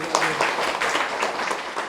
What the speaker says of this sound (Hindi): ताली लगाइए दीदी के नाम पर